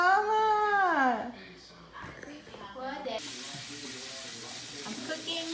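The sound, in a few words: hamburger meat sizzling while frying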